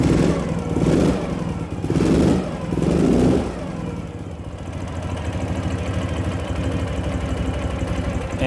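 Up close, a 2012 Ural Patrol 2WD motorcycle fitted with an FMF dual exhaust revs three times in quick bursts, then drops back to a steady, loud idle with no talking.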